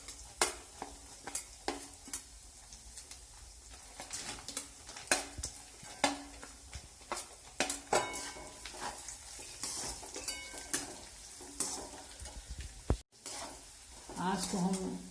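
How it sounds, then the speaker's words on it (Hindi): Chopped cashews, almonds and dried dates fry in a kadhai, a soft sizzle broken by frequent scraping and clinking stirs spread through the whole stretch. "अब हम कढ़ाई में कटे हुए काजू, बादाम और छुहारे को डाल करके फ्राई कर लेंगे।"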